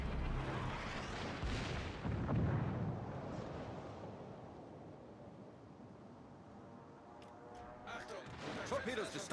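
Warship secondary battery guns fire in a naval video game with heavy booming blasts and rumbling that roll on under engine noise, with a few sharper reports near the end.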